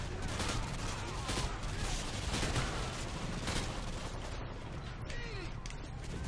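Dense, continuous barrage of explosive gunfire and grenade launcher fire in Call of Duty Modern Warfare 2, a battle inside a wrecked White House; loud, overlapping blasts with no pause, a faint voice buried in the din.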